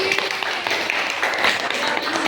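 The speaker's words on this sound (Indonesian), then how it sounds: "kasih aplaus lagi" Applause in a school classroom, a brief dense patter of many hands clapping together at steady volume, with no individual voice standing out.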